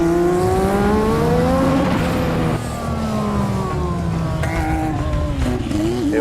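A Honda-powered Williams FW11 Formula One car at full throttle, its engine howling loud and close, climbing in pitch through the gears, dipping briefly, then revving hard again without a break.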